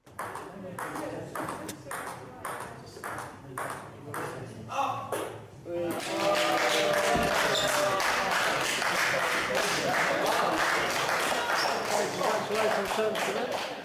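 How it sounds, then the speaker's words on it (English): Sharp table tennis ball pings in an even rally during a world record attempt, then a burst of clapping from several people breaks out and continues alongside talk. "There's more than one person clapping."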